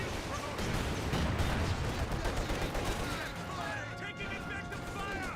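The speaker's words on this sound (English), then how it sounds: "Ooh, another Katusha barrage there." Katyusha rocket barrage in the video game Company of Heroes 2: a dense, continuous roar of crackling rocket impacts and explosions rolls on for several seconds, with battlefield noise underneath and a voice talking over it.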